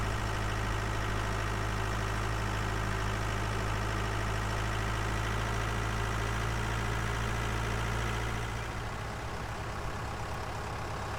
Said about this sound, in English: My God, this tractor can barely haul this tipper.